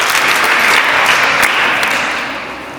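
A classroom full of people in Nigeria claps together in a dense burst of applause, fading slightly toward the end.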